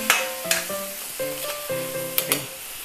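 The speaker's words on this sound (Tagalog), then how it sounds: "So, konting ano lang siya, konting gisa lang." Pork, young corn and mushrooms sauté in a pan, giving a moderate sizzle with a few sharp clinks and scrapes of stirring, close up and with no voices.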